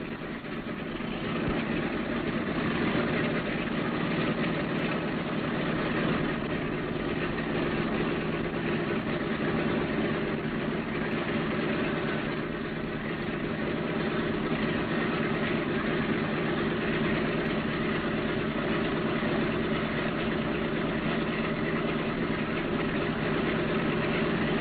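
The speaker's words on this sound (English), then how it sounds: "Throttle your engines all the way back and we'll get ready to taxi." The piston engines of a Boeing B-17 Flying Fortress idle with throttles pulled back, a steady drone without a break, a constant mid-low hum with a faint vibrating edge and no change in pitch.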